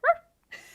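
A child imitates a dog barking, giving one sharp, close woof followed by a brief pause and a breathy, rougher second sound.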